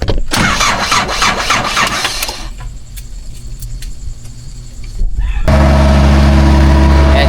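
An engine cranks and catches after a spoken go-ahead, settling into a loud, steady idle with its revs climbing, during a rescue of a broken-down vehicle.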